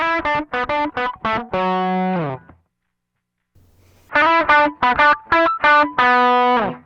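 An electric guitar through an Ibanez TSMINI Tube Screamer Mini overdrive pedal with the tone knob turned fully down plays choppy chords with a dull, muffled tone, pauses for about two seconds, then resumes with another burst of chords.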